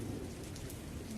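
Heavy rain pours steadily and loudly, a dense continuous patter with a deep rumble underneath, where a stall's tent has blown away and food is soaked in the downpour; no one speaks.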